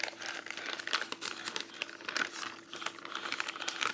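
Close, crisp crinkling of a plastic bag being handled, with irregular bursts of rustling and crackle over a few seconds.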